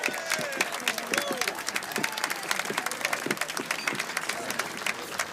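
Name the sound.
audience applauding a singer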